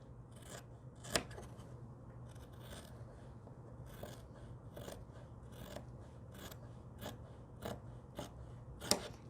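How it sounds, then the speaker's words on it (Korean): Scissors snip fabric for a handmade quilted face mask, making quiet, sharp cuts at irregular intervals, with a few louder snips, in a calm, still room. "그리셨으면 가위로"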